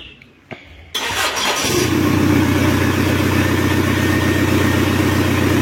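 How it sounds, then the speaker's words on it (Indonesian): A Kia Carnival diesel engine is cranked by its starter after a few quiet clicks, catches and settles into a loud, steady, close-up idle with a rough rhythmic diesel clatter. "Oke, kita starter dulu. Ayo starter dong."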